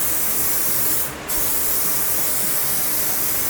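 Spray gun laying base coat paint onto a car body panel during a cheap Charger R/T refinish, a steady close broadband hiss with one brief break in the middle.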